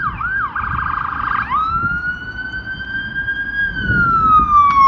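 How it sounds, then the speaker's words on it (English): An ambulance siren passes near Carlisle Castle, loud and close, first rapid warbling yelps, then a long rising and falling wail, with faint road traffic underneath. "I think it's an ambulance coming down"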